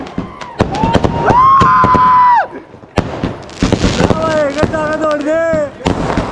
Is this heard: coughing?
no